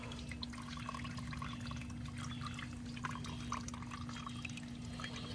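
Coolant trickles and drips steadily from a Harley-Davidson V-Rod water pump during replacement, a faint continuous liquid patter under a constant low hum.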